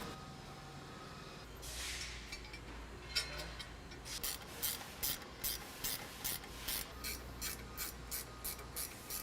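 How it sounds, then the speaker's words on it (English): A ratchet cranking as a sway bar is bolted up on a 1955-57 Chevy, with a run of quick, regular clicking strokes coming in bursts, close and fairly quiet. "we're going to go ahead and bolt the bar up next."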